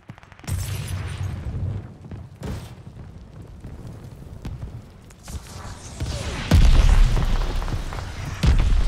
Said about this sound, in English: Friendly mortar fire coming.